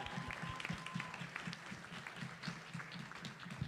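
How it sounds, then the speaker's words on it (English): Conference audience applauding a committee member, a faint, steady patter of many hands clapping, heard from some distance and fairly low in level. "I'd like to have a big round of applause for Adam."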